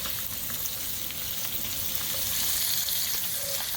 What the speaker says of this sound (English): Trying to heat up the bacon a little bit.